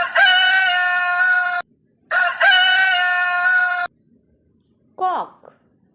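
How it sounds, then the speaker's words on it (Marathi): A rooster crows twice, each call long, loud and close, with a short gap between them, followed by a brief clucking call after a pause. "cock म्हणजे कोंबडा."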